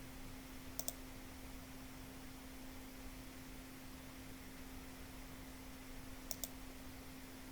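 Two brief pairs of mouse clicks, one early and one near the end, while working in an Excel spreadsheet to change a chart type to pie; faint and isolated over a steady low hum, with no talking.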